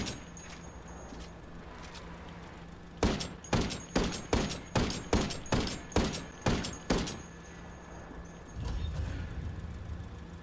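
A rapid run of about a dozen evenly spaced gunshots rattles against a cash transport vehicle in the video game Ghost Recon Wildlands. A deep, rumbling blast follows as the vehicle blows up.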